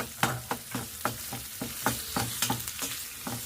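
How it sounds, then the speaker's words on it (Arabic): Garlic and onion sizzle in a frying pan while a utensil stirs them, giving a steady hiss punctuated by regular scraping knocks roughly twice a second, close and moderately quiet. "هنحط الثوم معاهم عشان ريحته تطلع رخرة اهو، ونقلبه تقلبتين"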